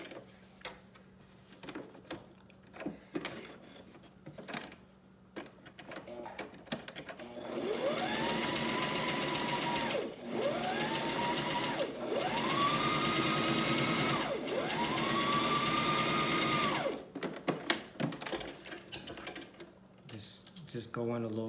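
A sewing machine runs through two layers of fabric in four sustained bursts, each speeding up and then settling, close and loud, with a person talking before and after the stitching.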